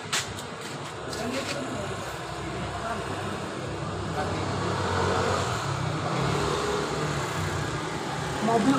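An official government car drives past in a Bekasi residential neighborhood, its engine rising and passing amid steady road noise, with people talking faintly nearby.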